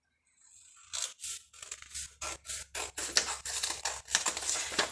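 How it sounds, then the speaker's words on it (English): Scissors snip through card for a Chanukah dreidel craft, a close, steady run of about ten crisp cuts in a regular rhythm, nothing else heard. "I'm just gonna cut it up a little shorter."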